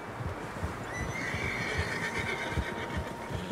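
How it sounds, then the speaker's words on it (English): Several horses neigh and whinny in Red Dead Redemption 2, sounding over a steady outdoor ambience with faint hoof clip-clop, continuous across the scene at moderate distance. "Horses, quite a few of them."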